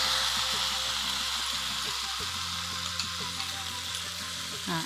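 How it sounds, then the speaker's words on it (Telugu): Soaked semolina fries in ghee in a pan for rava kesari while a ladle stirs it, giving a continuous close sizzle with scraping stirring noises, as a voice talks over it. "ఇప్పుడు అడుగంటకుండా గరిట కదిలిస్తూ వేయించాలి"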